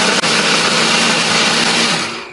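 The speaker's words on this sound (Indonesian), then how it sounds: "Di sini aku menghaluskannya menggunakan blender" A kitchen blender grinds spice paste ingredients with a loud, steady high whir that runs continuously, with a brief dip near the start and a slight fade at the end. No one speaks.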